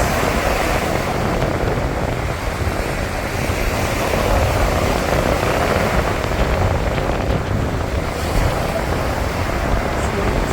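Strong wind buffeting a microphone outdoors on a cold day in Germany, a steady, loud roaring rush that continues without break for the whole stretch.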